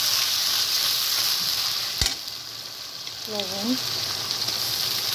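Ginger garlic paste frying in hot oil for a koi fish and vegetable curry, a steady loud sizzle with one sharp clink and a short voice partway through.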